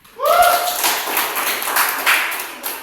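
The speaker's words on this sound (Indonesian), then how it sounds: "Oke, tepuk tangan." Students in a classroom clap their hands in a short burst of applause after a brief voice, the claps fairly close and settling into a scattered patter.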